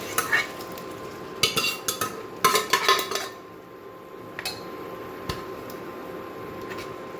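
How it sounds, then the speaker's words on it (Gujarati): A spoon stirs mung beans into thick cooked masala gravy in a pot, several close scraping clatters and squishy metallic knocks in quick bunches, then a quieter stretch with a single sharp clink. "સરસ મિક્સ કરી દઈએ."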